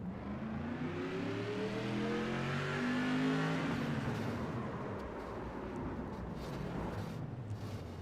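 An SK modified race car engine at Charlotte roars steadily from an onboard camera, its pitch rising and falling as the car accelerates and shifts, loud and continuous with no voices.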